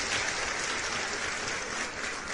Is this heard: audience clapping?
yes